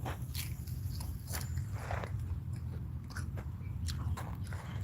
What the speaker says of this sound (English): That's that skin, that crunchy skin.